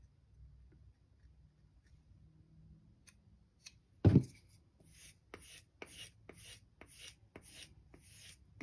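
Knife blade stroked across a King Neo 800 whetstone to work down a burr: after a sharp knock near the middle, a steady series of short, light rasping strokes follows at a regular rhythm, close and fairly quiet.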